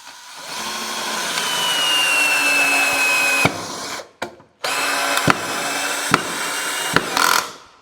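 Black Tools cordless screwdriver boring through a piece of wood, a steady whining motor drone for about three seconds, then several short bursts with sharp clicks and brief stops near the end.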